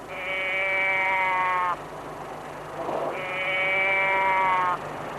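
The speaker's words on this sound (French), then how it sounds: "C'est les cordes vocales d'une vache mise dans une petite boîte." A small cow voice box toy gives two drawn-out bleating moos, each about a second and a half long, with a short pause between them. Both sound fairly loud and close.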